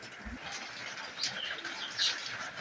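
Budapest racing pigeons, including a greenette male, give low coos mixed with brief wing flaps and rustling nearby, over a faint steady background hiss.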